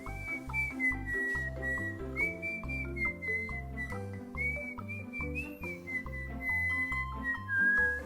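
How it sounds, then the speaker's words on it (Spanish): A whistled melody standing in for a monkey's call warbles up and down over a steady, thumping musical backing. It is clear and continuous, with no speech. "Escucha cómo silba nuestro amigo el mono."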